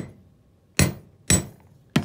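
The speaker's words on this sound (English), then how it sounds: "I just flip it over and give it another couple swats with the hammer" A hammer strikes wire three times, sharp and close, with short pauses between blows.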